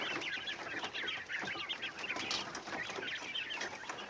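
Three-week-old quail in a growing cage, giving a steady, dense chorus of soft chirps and peeps close by.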